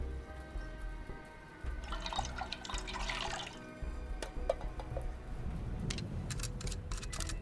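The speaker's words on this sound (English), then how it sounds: "I can pour in the fuel now." Liquid fuel poured into a generator in a video game, with dripping and splashing trickles over a low background hum, some sharp drip ticks near the end.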